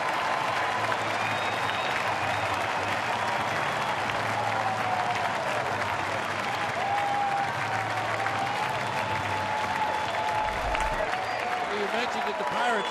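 Pittsburgh Pirates fans at a home baseball game cheer and applaud steadily after a home run, a dense, loud crowd roar with clapping that continues unbroken throughout, with faint announcer talk beneath.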